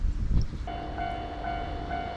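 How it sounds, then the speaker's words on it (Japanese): A train passes at close range, a deep rumble giving way to a steady metallic whine and tonal screech of wheels on rails, loud and continuous for the short span. "もう一丁、至近距離から電車を撮影します。"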